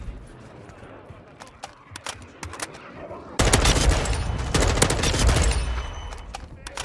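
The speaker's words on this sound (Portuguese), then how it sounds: "desse barulhinho do headshot" Gunfire in Call of Duty MW2 multiplayer: scattered sharp single shots at first, then a dense, loud burst of rapid automatic fire and impacts that continues to the end.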